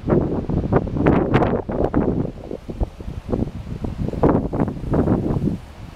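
Steady wind buffets an outdoor microphone near sea cliffs in loud, rumbling gusts, with broadband roaring that swells and eases throughout.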